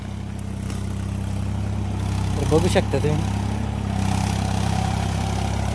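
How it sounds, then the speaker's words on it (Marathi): A tractor engine idles steadily with a low, heavy rumble on a farm near a polyhouse, holding a constant drone throughout while someone speaks briefly over it. "इथून ट्रॅक्टर घेऊन येणार आहे आता"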